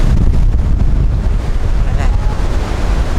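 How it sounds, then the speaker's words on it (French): Strong storm wind buffets the microphone on a beach, a loud, continuous roar with gusty fluctuations and surf-like rumble underneath. "c'est le vent"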